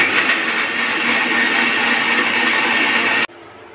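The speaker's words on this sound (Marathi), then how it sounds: "मिक्सरला फिरवून घेते." Mixer grinder blending a raw mango fruity mixture in its jar, a loud steady whirring roar that cuts off abruptly near the end, leaving a low residual hum.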